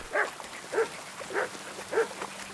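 A dog in the medieval game Kingdom Come: Deliverance II barks four times at an even, unhurried pace against a faint rain-like background hiss. No one speaks.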